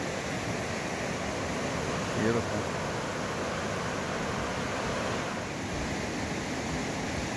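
Steady broadband roar of Snoqualmie Falls and the rushing river below it, continuous and fairly close, with a single brief voice speaking over it.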